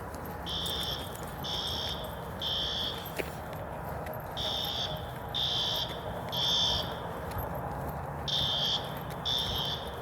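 A fire alarm sounds inside a Bass Pro store in repeating groups of three piercing high beeps, separated by short pauses, over a low hum of indoor background noise.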